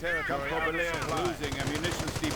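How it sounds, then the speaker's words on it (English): Heavy machine gun firing in a World War II strategy game pitting American forces against Panzer Grenadiers: rapid, evenly spaced bursts rattling underneath a commentator's continuous talk. "Another heavy machine gun setting up and going straight for the cutoff point right there as well."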